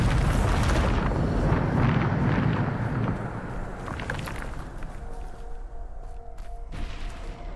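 A Bombarda blasting spell erupts in the Hogwarts Legacy video game as a loud, sustained rumbling explosion that gradually fades over several seconds, with faint tonal game sounds surfacing near the end.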